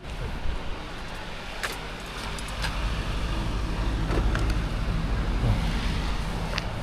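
A car driving along a road, steady engine and tyre rumble with road noise building slightly and holding, a few faint ticks and clicks inside the cabin, no talking.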